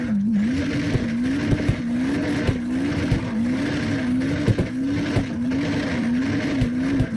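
A AAA tow truck drifts in CarX Drift Racing Online, its engine holding a wavering, oscillating note while tires squeal in steady repeating pulses, loud and continuous.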